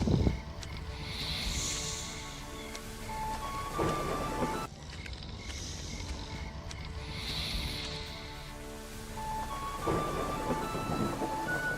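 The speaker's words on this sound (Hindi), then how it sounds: "जब वसुदेव ने सिर पर टोकरी लिए हुए तूफानी नदी को पार किया" A thunderstorm with heavy rain and rolling thunder crashes over a stormy river at night, steady downpour with two loud thunder swells, used as a sound effect in a Hindi Janmashtami story narration.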